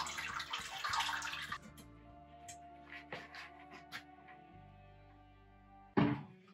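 Mash liquid pours from the vessel into a pot during home beer brewing, a loud splashing gush that tapers into trickles, a few drips and clunks, then one more brief splash near the end.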